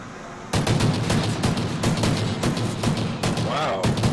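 Video game gunshots crack out in a rapid, irregular burst of about a dozen sharp close reports after a brief quiet start, with game sounds mixed in beneath.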